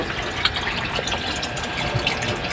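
Fresh stock water pours into a guppy aquarium with a steady, close rushing splash and small bubbling pops throughout, with no voices.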